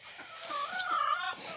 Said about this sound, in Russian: 4 курицы и 3 петуха.